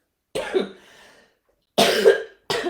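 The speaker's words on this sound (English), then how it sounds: "Excuse me, I'm recovering from a cough here." Three harsh coughs, close and loud, with short silences between, the first trailing off into a raspy exhale.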